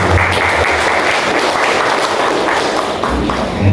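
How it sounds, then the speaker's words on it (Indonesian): Applause from an audience at an Indonesian teachers' training opening, a dense, steady patter of many hands clapping together, loud and close, continuing without pause for several seconds. "Tepuk tangan untuk ibu."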